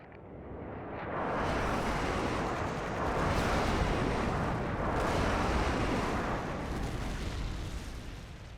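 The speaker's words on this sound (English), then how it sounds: "Friendly airstrike inbound." Friendly airstrike explosions in the video game Call of Duty: Modern Warfare 2 build into a loud, continuous rumbling roar of overlapping blasts that swells and holds for several seconds without any talking.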